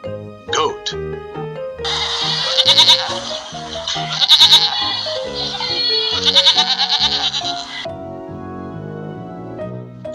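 A goat bleats three times, each a quavering, wavering cry, over a steady musical backing that continues after the last call.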